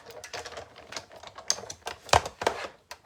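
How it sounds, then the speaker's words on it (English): A Big Shot die-cutting machine being hand-cranked while grid paper tears, giving a close run of irregular clicking, ratcheting and crinkling bursts with no talk. "Let me crank this through as I tear my grid paper up."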